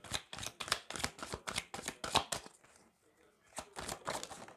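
Tarot cards shuffled by hand before a final card is drawn, a run of quick papery riffling bursts at close range, pausing briefly before a few more shuffles.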